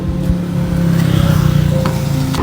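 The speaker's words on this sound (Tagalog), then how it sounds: "May paparating na sasakyan!" A car approaching along a road, its engine rising in a steady hum that grows louder and closer over a couple of seconds, with low rumble and no talking.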